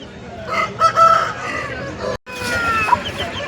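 Parrot beak breed chickens and other fowl at the Sunday hen market in Pileru cluck and a rooster crows amid steady crowd and market bustle, close and lively.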